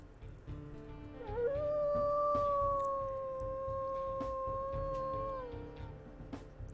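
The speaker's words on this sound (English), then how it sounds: "we've actually had 2 howls that seemed pretty significantly different" Synthesized wolf pup howl from the WolfQuest video game: one long, sustained howl rising then holding steady for several seconds before tapering off, loud and clear against a low constant background hum.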